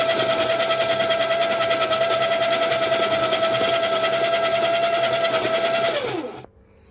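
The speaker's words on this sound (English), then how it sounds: "Then let's grind some beans." Baratza Encore burr coffee grinder grinding beans at its finest setting, a loud steady motor whine with a constant tone that runs alone for about six seconds before winding down and cutting off.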